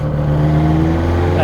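A modified Autobianchi A112 Abarth engine drones loud and close from inside the cabin, a steady low harmonic hum with a slight rise in revs at the end, and a voice is present under it.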